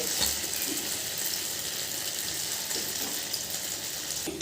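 Punugulu, fritters made from idli batter, frying in hot oil, giving a steady, fairly close hiss and crackle that runs throughout with no talking.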